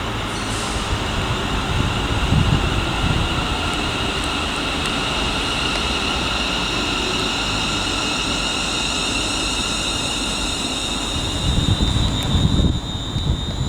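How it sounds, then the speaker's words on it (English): A ScotRail Class 380 electric train departs Paisley Gilmour Street station with a steady loud rumble and hum of traction motors, swelling slightly toward the end as it pulls away. "departing now is the 380-111 on the 10:40 ScotRail service to Ayr as the final train in this video"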